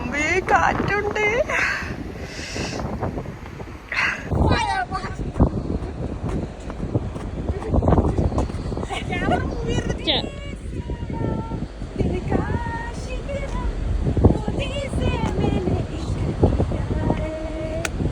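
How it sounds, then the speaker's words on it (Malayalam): Strong wind buffets the open deck of a Stena Line ferry crossing from Liverpool to Belfast, a loud rushing roar that runs continuously beneath excited talking voices. "അമ്പേ കാറ്റുണ്ട്."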